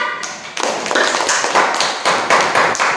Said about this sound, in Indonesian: kasih dulu tepuk tangan untuk Rasya